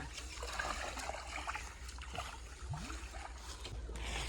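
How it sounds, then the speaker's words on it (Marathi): A clay cooking pot being rinsed and washed with water outdoors in a forest clearing, giving a soft continuous trickle and splash against steady low background noise. "तर आम्ही याच्यात आधी व्यवस्थित धुवून घेऊया बुडकुला आमचा"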